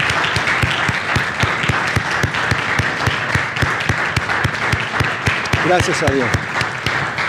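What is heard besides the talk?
church audience applause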